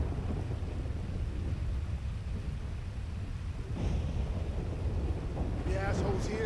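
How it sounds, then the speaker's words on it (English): Thunderstorm in Grand Theft Auto 5 at an icy lost camp: a steady roar of rain and wind carries throughout, with a deeper rumble swelling near the middle. "The storm is also ridiculously cool"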